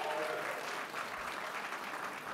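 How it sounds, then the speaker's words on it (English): Applause from a seated crowd at a performing arts youth benefit gala, a steady, fairly soft patter of many hands over a couple of seconds. "So give yourselves a big round of applause."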